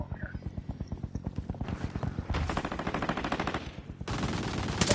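Rapid automatic gunfire from a video game gun, several bursts of fast rhythmic shots, close and punchy, with sections changing pace and intensity.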